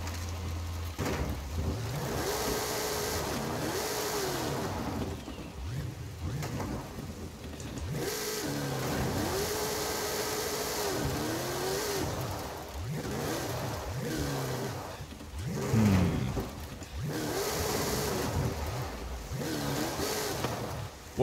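A car drifting and revving in the racing game Forza Horizon 5, with the engine rising and falling in repeated pitch sweeps under steady rushing noise at a moderate level.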